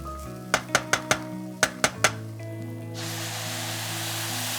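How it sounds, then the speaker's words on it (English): Tomato hits a hot pan with spices while making Egyptian lentil soup, bursting into a bright steady sizzle after a few sharp utensil clicks. "Now we'll add tomato and cook for 1 to 2 minutes or until tomato turns"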